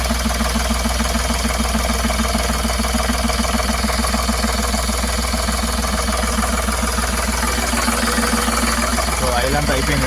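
An Ashok Leyland mini truck engine, under power steering repair, runs at a loud, close, steady idle with a rhythmic low diesel throb, and a person talks over it.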